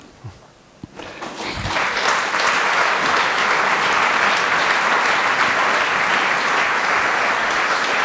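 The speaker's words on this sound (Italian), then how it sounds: "Non voglio interrompere gli applausi" An audience in a hall breaks into applause after a quiet moment, the clapping swelling quickly into a loud, dense, sustained ovation that holds steady to the end.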